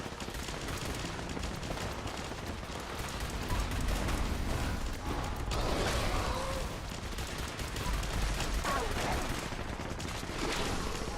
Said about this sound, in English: Someone's shooting me from somewhere.